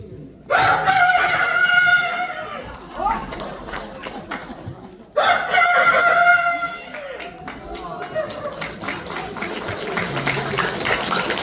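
A voice imitates a rooster crowing twice at a folk percussion troupe's recital, each a long, drawn-out call, with an audience chuckling and murmuring afterward.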